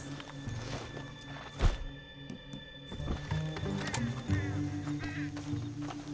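Horse hooves clop at a steady walking pace in Red Dead Redemption 2, with a snort or whinny and other game sounds layered over them.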